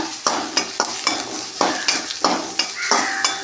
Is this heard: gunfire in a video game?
no